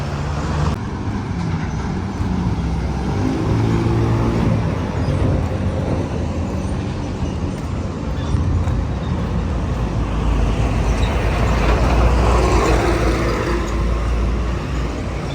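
Heavy Manila street traffic with many garbage trucks, a continuous loud rumble of engines and road noise with nearby vehicles rising and passing.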